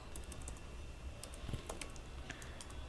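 A computer keyboard being typed on, scattered light key clicks over a low steady room hum, close by and fairly quiet.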